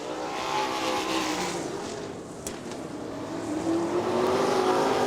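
Dirt sprint cars race past on the final lap at Crystal Motor Speedway, making a loud, rising and falling engine roar with a clear pitch sweep as the cars pass and the sound builds louder near the end.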